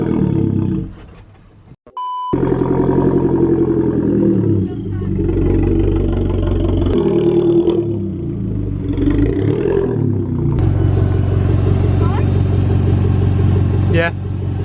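Audi A1 hatchback being moved slowly, its engine idling and revving in a low, steady rumble close by, after a brief dip and a short beep near the start, with people talking over it.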